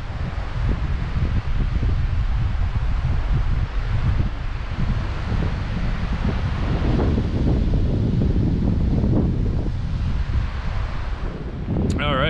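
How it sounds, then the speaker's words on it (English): Strong wind buffets the microphone on the coast beside sand dunes, a continuous loud roar and rumble with rustling throughout, close and unbroken for the whole stretch. "Alright, so it's a bit windy,"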